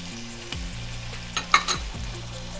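Soy sauce and chili sauce hit a hot pan for chicken Manchurian, giving a steady loud sizzle with a few sharp spatters and stirring scrapes, no talking.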